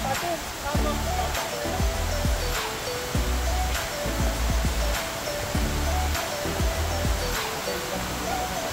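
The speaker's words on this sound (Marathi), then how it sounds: "तर आता आपण धबधब्याकडे आलेलो आहे." A monsoon-season waterfall on the trek to Bhimashankar via Ganesh Ghat, running low, sends up a steady broad rushing roar, with thuds and rustles from people nearby.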